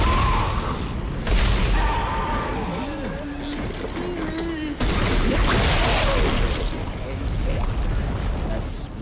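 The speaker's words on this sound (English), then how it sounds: "That exploded real nice." Explosions in the sci-fi horror game Dead Space, two loud booming blasts several seconds apart, each with a broad rumbling tail, amid game sounds and warbling tones.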